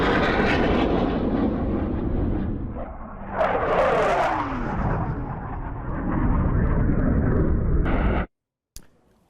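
Roar of an F-35 fighter jet engine, a loud, continuous broadband rush with a rising then falling whoosh as it passes close by, cutting off abruptly near the end.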